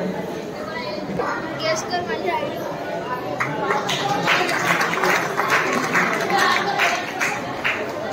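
An audience at a cultural programme in Dadar, Mumbai claps to welcome a guest, scattered applause building into a fuller round under ongoing chatter and a voice over the crowd.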